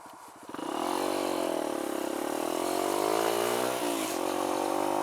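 A Kawasaki KLX140 dirt bike, fitted with a KX65 carburetor, runs on its first test ride with the engine stumbling under throttle. The close, steady engine drone wavers in pitch, dips and hiccups briefly near the end.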